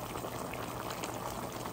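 Turkey neck simmers in a little water in a Dutch pot, a soft, steady bubbling hiss close by and fairly quiet, with no voices.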